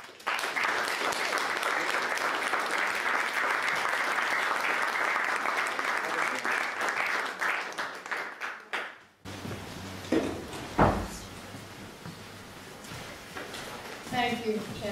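An audience at an economics of happiness lecture applauds to welcome Helena Norberg-Hodge, a steady dense clapping from a full room for about nine seconds before it stops abruptly. Scattered knocks and murmured voices follow.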